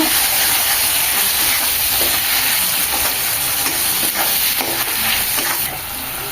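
Shankar fish curry masala with turmeric, chili and roasted cumin powder sautéing in a pan, a steady loud sizzle with occasional stirring scrapes throughout, easing slightly near the end.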